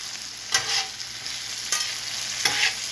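Sloppy joe mixture sizzles steadily on a Steelmade flat-top griddle, with three sharp scraping stirs of a spatula breaking through the constant frying hiss, close and fairly loud.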